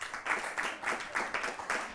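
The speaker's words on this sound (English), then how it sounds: "Clap for her." Children clapping together for a classmate at a Kenyan scouts class, about six quick rhythmic group claps in a row, fairly close and moderately loud, with no talking.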